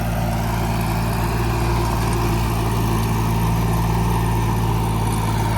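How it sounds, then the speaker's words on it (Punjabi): A tractor pulling a mini rotavator runs steadily and loudly nearby, its engine holding an even, unbroken drone from start to finish. "ਟਰੈਕਟਰ ਵੀ ਪੂਰਾ ਬਾਈ ਆਰਾਮ ਨਾਲ ਚੱਲ ਰਿਹਾ ਜੀ"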